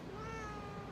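A single drawn-out meow with a steady harmonic tone, close and fairly clear, lasting under a second; it may be a person imitating a cat.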